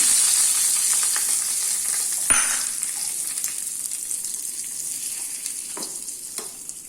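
Mustard seeds sizzle and pop in hot tempering oil for a curry leaf chutney. The hiss is steady and close, broken by a sharp crackle near the start and a few scattered pops as it slowly settles. No one speaks.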